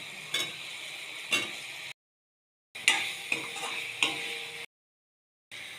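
Potatoes sizzle in a hot pan for an egg curry, a steady close frying hiss broken by sharp clicks of stirring, with the sound cutting out twice into brief silence.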